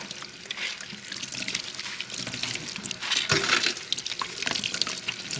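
Running tap water splashes steadily into a sink while a luffa sponge is rinsed and squeezed under it, with water gushing and trickling close by and no talking.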